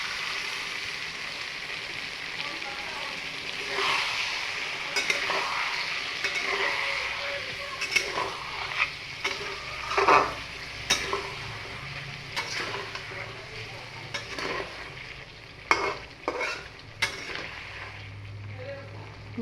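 Spice paste frying in oil in a pan for a Bengali hilsa fish curry, with steady sizzling and scattered scraping stirs close by; no one talks.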